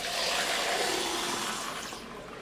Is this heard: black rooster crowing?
no